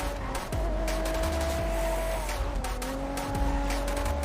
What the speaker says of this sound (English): The engine sounds fucking amazing